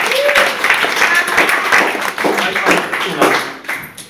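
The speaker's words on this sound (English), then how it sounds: "So let's all give ourselves a round of applause." An audience at a pub music night applauds itself, producing a sustained, fairly loud wash of clapping with a few cheers mixed in, fading slightly toward the end.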